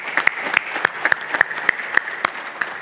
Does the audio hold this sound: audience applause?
yes